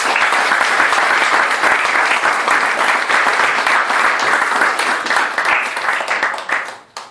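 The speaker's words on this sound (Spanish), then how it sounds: "Mire, hermano, denle un aplauso al Señor." A church congregation applauding, a loud, dense and sustained wave of many hands clapping close around that holds steady, then tapers off abruptly at the end.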